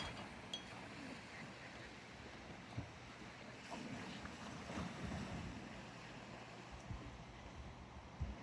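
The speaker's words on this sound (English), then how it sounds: "The salty air and the sound of the tide cleans away all of your anxieties" Ocean surf and tide rolling in at Flea Beach, a soft continuous wash of distant waves mixed with wind buffeting the microphone, faint and steady with no voices.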